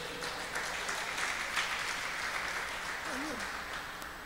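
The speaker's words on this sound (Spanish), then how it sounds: "denle un aplauso al Señor si se atreve" Sustained applause from a church congregation fills the room, a steady wash of many hands clapping at even loudness throughout, with a brief voice surfacing near the end.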